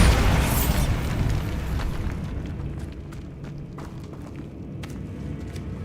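Bombarda spell blast in Hogwarts Legacy: a loud, close explosion erupts at once and slowly fades into a long rumbling decay, with a few faint thuds and small debris clatters trailing behind.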